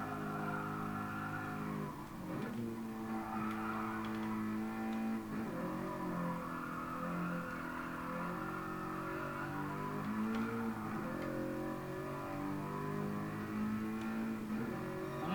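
Toyota GR86 engine in Gran Turismo Sport drones steadily and loudly throughout, with rising and falling revs and shifting pitch as the car is driven, no talk over it.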